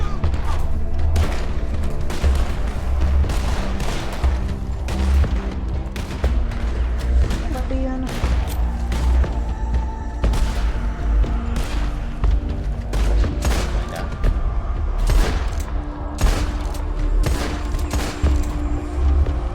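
Dense, continuous gunfire in a roleplay shooting video game (WildRP), rapid shots and thuds layered over one another for the whole stretch, loud and close with a few voices mixed underneath.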